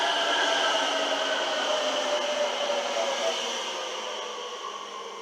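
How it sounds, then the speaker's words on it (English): A Randstad Rail train, a subway train running on tram tracks in The Hague area, passes with a steady whining hum and rolling rumble that slowly fades as it moves away. "a subway train."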